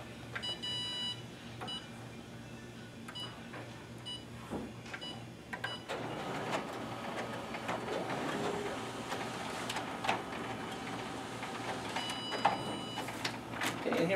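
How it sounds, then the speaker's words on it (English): A Xerox WorkCentre 5225 copier runs test copies, first beeping and whirring, then settling into a steady mechanical rumble with rhythmic feed clatter. A voice speaks briefly over it. "And now we're going to go ahead and run a few test copies to show the copy quality on this machine."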